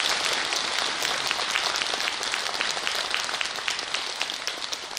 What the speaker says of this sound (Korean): 이럴 때 박수 한번 쳐주세요.